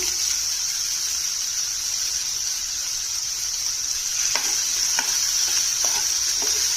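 Boiled beans sizzle and fry with green chillies in a pan, a steady loud hiss with a few soft scrapes of stirring near the end.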